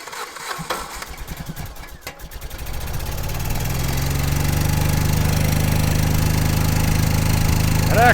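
An old air compressor engine cranks over with uneven chuffing, catches after a couple of seconds, then settles into a steady, loud, unloaded idle with a low, throbbing rhythm.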